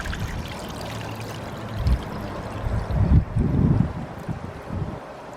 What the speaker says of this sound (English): Now you get nice milky rice water, and you wanna pour into your fish.